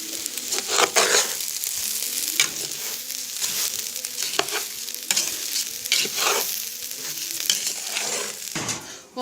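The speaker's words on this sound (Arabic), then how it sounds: "اهي امي بتقلب فيه" Salt being stirred into koshari in a cooking pot, giving a continuous scraping, sizzling stir with irregular clatters, close and fairly loud, with no talking.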